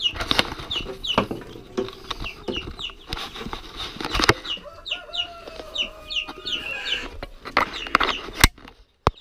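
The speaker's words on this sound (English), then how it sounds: "That's what that chirping is." Young chicks chirp repeatedly in high, thin peeps at close range, mixed with soft clucking and brief wing flutters from the birds nearby.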